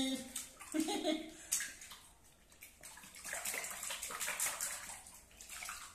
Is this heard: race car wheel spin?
no